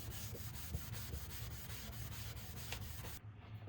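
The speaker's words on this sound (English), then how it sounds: "I have finished kind of scrubbing this down with the Scotch-Brite" An abrasive Scotch-Brite pad scrubs steadily over a pinball playfield part in long, continuous rubbing strokes, broadband and close, with a low hum underneath, ending abruptly.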